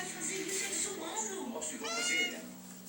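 A pet cat meows in a home near a piano, its rising, wavering cries repeating several times at close range, with a louder drawn-out meow near the end, while people talk and background sounds continue throughout.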